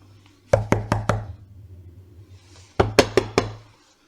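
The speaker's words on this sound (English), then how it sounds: "Sounds like a sturdy door." Heavy knocks on a sturdy wooden door during a tabletop role-playing session: a quick set of four firm raps, a pause over a low hum, then another four, close and clear.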